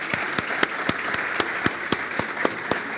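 Audience applause at a live political stage event in Argentina, a steady wash of many hands clapping with a few sharper individual claps popping out at a regular rhythm, fairly close and continuous throughout.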